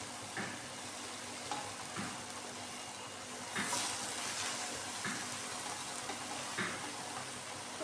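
Chopped padpe greens (harive soppu) fry in a pan with a steady close sizzle, broken by periodic scraping stirs from a spatula, and a brief louder hiss partway through.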